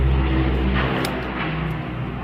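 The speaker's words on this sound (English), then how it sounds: "And there's a plane taking off." An airplane takes off somewhere nearby, a broad steady roar heard through a garage setting, fairly loud and unbroken for a couple of seconds with no talk over it.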